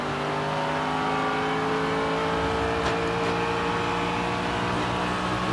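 A race car runs on the Indianapolis speedway during an 8-hour GT race, its engine a steady, loud sustained drone with layered harmonic tones that hold across the stretch, no voices over it.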